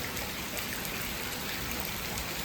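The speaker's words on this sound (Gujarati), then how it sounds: "અત્યારે પાછો છે ને વરસાદ ચાલુ થઈ ગયો છે" Steady rain falls continuously at night around half past ten, a soft, even wash of drops with no breaks, fairly quiet and heard alone.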